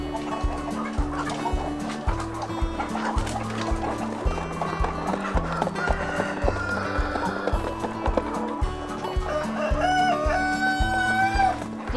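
Village chickens kept by a farming group in Indonesia cluck and crow repeatedly across a rhythmic, steady background of pulsing low tones, with fowl calls rising near the end; no one speaks.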